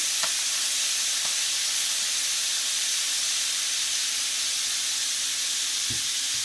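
Hanger steak sears in a hot pan with a steady, loud hiss and sizzle that runs unbroken throughout, with a few faint clicks and knocks near the cook.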